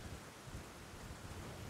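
Rain and rumbling thunder in the video game Elden Ring, a faint, steady wash of rainfall with low rolling rumble beneath, continuous and without talk.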